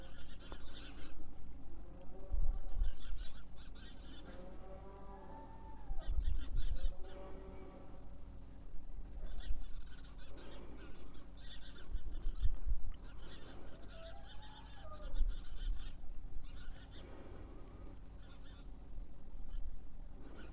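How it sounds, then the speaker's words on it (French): Small birds whistle and chirp outdoors in short, repeated calls, some near and some farther off, over a steady background hiss. "Je pense que vous devez entendre le chant des oiseaux."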